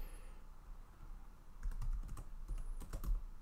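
Typing on a computer keyboard: a quiet hum at first, then a quick burst of close, crisp key clicks in uneven clusters, with no talking.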